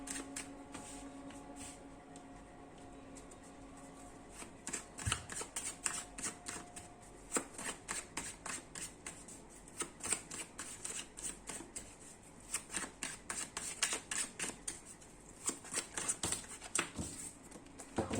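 Tarot cards being shuffled by hand, with long runs of quick crisp riffling and flapping that repeat in bursts, close and clear with no talking over them.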